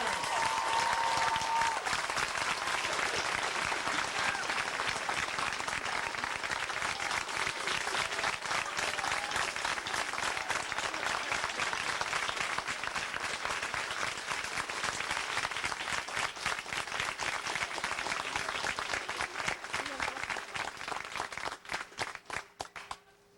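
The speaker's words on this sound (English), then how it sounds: "Please join me in applause for your parents." A large audience at a 1991 Yale graduation ceremony applauds the graduates' parents in sustained, dense clapping that stays loud for over twenty seconds before thinning out and fading at the end.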